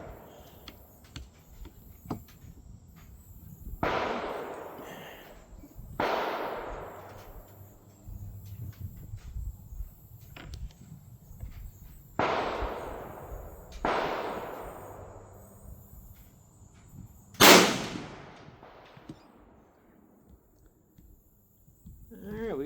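Several suppressed gunshots from a Marlin 336 lever-action rifle fitted with a muffler, fired at target practice. Five or six sharp cracks come at spaced intervals, each with a decaying tail, and one final louder, brighter report stands out.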